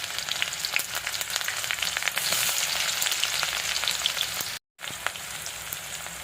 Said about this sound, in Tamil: வெங்காயம் எல்லாத்தையும் சேர்த்தாச்சு. நல்லா வதக்கி விட்டுக்கலாம்.